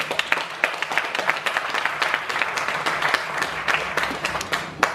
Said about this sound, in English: I'd like to just really ask you to give them a round of applause